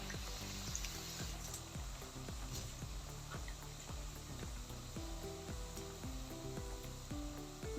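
Sweet potato samosas fry on a low flame, giving a steady soft sizzle and hiss beneath rhythmic background music that dominates throughout.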